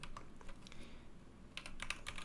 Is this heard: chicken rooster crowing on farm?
no